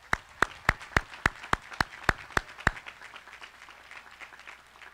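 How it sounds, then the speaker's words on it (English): Applause at a high school graduation ceremony, sharp claps landing at a steady beat about every third of a second for nearly three seconds, then fading into a soft, scattered patter of distant clapping and room noise. "Please give these folks a round of applause."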